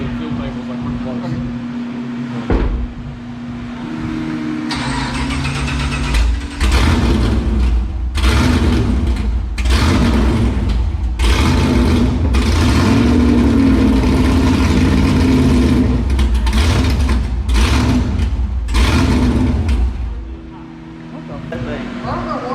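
A 1000-horsepower COPO Camaro engine on a dyno, idling then revving in repeated bursts with a steady mechanical drone, while people talk over it throughout.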